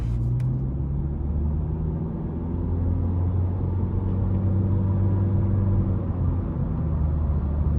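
A 2022 Honda Civic Sport 2.0 sedan gives a steady, close engine and road drone from inside the cabin. The sound stays constant through the stretch, with no voices heard.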